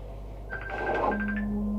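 Telephone ringing with a short electronic tone pattern, fairly close and clear, followed by a steady sustained tone.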